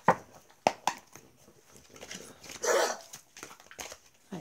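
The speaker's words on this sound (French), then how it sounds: "Désolée pour les bruits de mes chiens" Dogs bark and yip faintly in scattered sharp bursts indoors, with a longer whining cry in the middle and quiet gaps between the barks.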